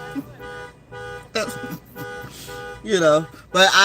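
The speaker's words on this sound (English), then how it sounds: "a lot of car horns are going off now" Several car horns and alarms sound outdoors, steady tonal blares with bursts of a rising-falling siren, repeated on and off over a few seconds while a voice talks over them.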